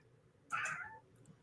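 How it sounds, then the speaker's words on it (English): A house cat gives a single clear meow, moderately close and alone against a quiet room. "No, your cat needs attention."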